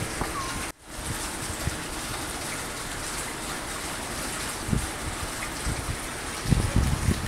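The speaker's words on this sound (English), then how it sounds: "Have water deluge onto the third rail to help improve things" Water gushes steadily onto a subway third rail, a constant hissing splash like heavy rain heard from nearby, with occasional louder thumps and a brief dip near the start.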